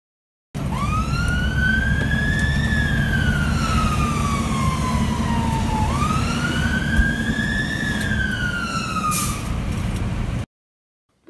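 A fire engine's wailing siren sweeps slowly up and down in pitch, loud and continuous over a rumbling engine, with no talking.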